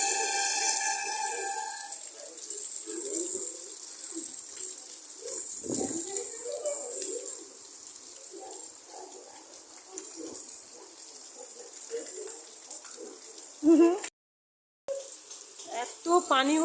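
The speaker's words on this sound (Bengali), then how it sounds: "দেখো আমাদের এখন অনেক জোরে বৃষ্টি পড়ছে।" Heavy rain pours down in a continuous broad hiss, like water splashing and running, with faint bird calls in the background and a brief cut in the sound near the end.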